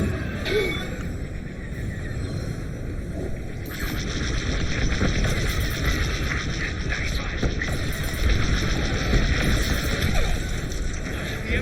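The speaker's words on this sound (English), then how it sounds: "I love explosions." Continuous space combat noise from Star Wars: Squadrons with booming explosions and rattling gunfire, loud and dense throughout, with a sharper burst of activity partway through.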